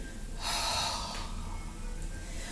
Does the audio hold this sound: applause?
no